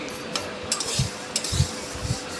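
White packaged shemai vermicelli is being fried to a reddish brown in a pan. Close, dry scraping and stirring strokes with light clinks of a utensil on the pan come over a soft hiss.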